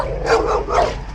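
Dogs barking behind a gate at night during a delivery stop, two loud close barks in quick succession over a low background rumble.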